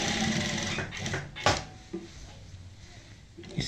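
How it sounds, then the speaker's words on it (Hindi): Electric sewing machine stitching a neckline border on fabric, running in short whirring bursts separated by brief pauses and small clicks, close and moderately quiet. "अब मैं सिलाई को इधर ले करके जाऊँगा और फिर वापस ले करके आऊँगा।"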